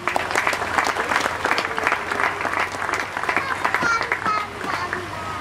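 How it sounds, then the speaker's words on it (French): A crowd at a church community gathering claps steadily and loudly throughout, dense applause that fills the room without letting up. "Il s'élève sous nos applaudissements."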